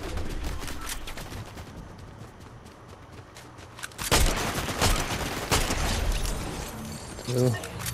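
Gunfire from players shooting in Warzone: scattered bursts and single shots, some distant and some sharper and closer, crackling over a busy battlefield background with voices talking at times.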